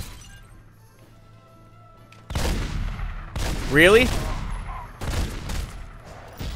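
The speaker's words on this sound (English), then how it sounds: "gunfire went off" Gunfire in The Godfather video game: bursts of shots and crashing impacts break out abruptly partway through, loud and close, repeating in clusters, with a player's voice reacting briefly over the game audio.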